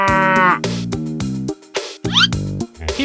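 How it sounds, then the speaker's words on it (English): A loud, close cow moo with several harmonic lowing calls in quick succession, standing alone without any talk. "Cow."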